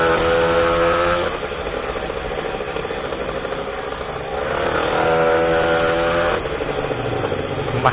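A Goped Uberscoot 71cc scooter engine while riding, a loud buzzy two-stroke drone heard up close that drops back and surges again with throttle changes.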